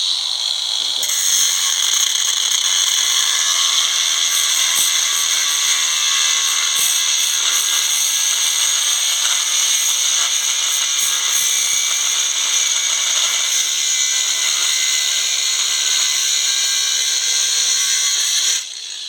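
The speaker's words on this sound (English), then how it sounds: "I'm going to cut this, not deep enough to go into the flange." A power tool cuts into a wheel bearing race clamped in a vise on an Audi A6. The high-pitched grinding whine is loud and close and runs steadily for the whole clip before it stops at the end.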